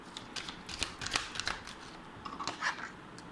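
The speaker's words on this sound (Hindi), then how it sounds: "जस्ट एक और बार शफल करेंगे।" Tarot cards are shuffled up close, a quick series of crisp riffling snaps and soft flutters in short bursts.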